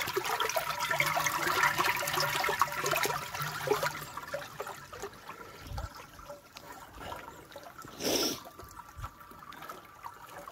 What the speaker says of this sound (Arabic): شوفوا الماء منين جاي تبارك الله